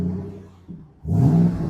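A 2014 Ford Mustang GT500 idles with a low burble, dips briefly, then revs up sharply into a louder, rising engine growl before settling at a high steady drone.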